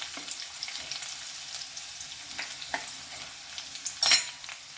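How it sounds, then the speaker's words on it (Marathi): Garlic sautéing on a low flame in a pan for methi bhaji: a soft, continuous sizzle with light stirring taps and a brief sharper crackle near the end. Close but fairly quiet, with no voice. "लसूण परतून झालेला आहे"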